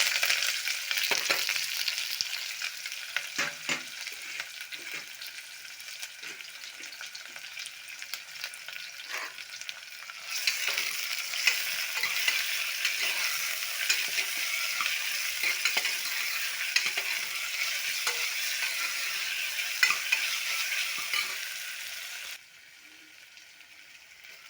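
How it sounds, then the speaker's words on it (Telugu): Onions and curry leaves sizzle and crackle in hot oil with garlic and ginger-garlic paste, a constant frying hiss broken by scraping stirs, then the sizzle drops sharply near the end. "ఎర్రగడ్డ ఇట్లా కొంచెం బాగా వేగిపోయింది"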